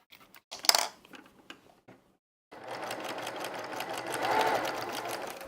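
A sewing machine stitches quilt fabric, its fast rhythmic clatter running steadily for about three seconds after a few earlier handling knocks and a pause.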